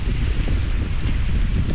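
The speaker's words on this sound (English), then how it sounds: "It's windy" Strong wind buffeting the microphone, a steady low roar that rumbles and gusts without pause.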